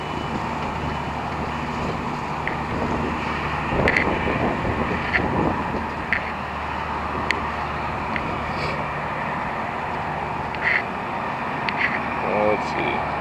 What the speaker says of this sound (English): The wind kicking up, it's just going to get worse.